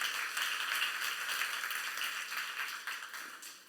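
A Korean church youth congregation applauds during a sermon, steady dense clapping from many hands that holds evenly, then thins and fades toward the end.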